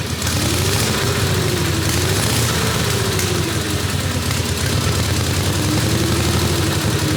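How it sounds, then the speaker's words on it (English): A 1912 car engine idles through its original muffler, a loud, steady low chugging rumble with a rapid even beat that holds unchanged for the whole stretch. "Oh, listen to that sound. Original muffler."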